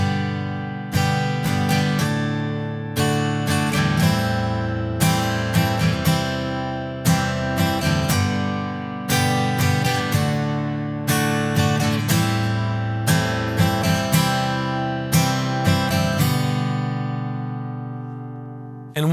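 An acoustic guitar strums a steady rhythmic pattern through changing chords, bright full strokes repeating evenly for many bars, close and loud.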